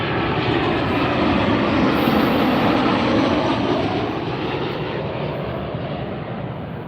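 A jet airliner arriving at Las Vegas passes low overhead, a loud, steady engine roar that holds strong throughout and only begins to fade slightly near the end.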